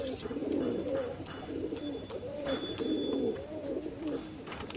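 Pigeons coo steadily in a loft of Tukai birds, including a female, their repeated low rolling calls close and overlapping throughout with faint chirps above.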